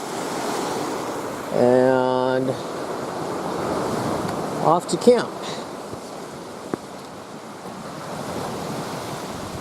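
Gentle surf washing against a Pictured Rocks shore in a constant wash of noise, with wind on the microphone and a couple of brief spoken words.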